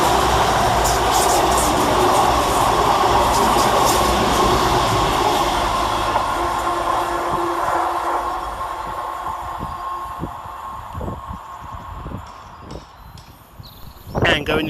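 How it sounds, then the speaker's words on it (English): Class 220 and 221 cross-country passenger trains run through a small suburban station: a loud, close rolling roar and wheel rumble that fades over several seconds into rhythmic clicks over rail joints, followed by a sharp clatter at the end. "on that thing's heels across country is 220015 and 221131, working 1 Oscar 16 from Manchester Piccadilly to Bournemouth"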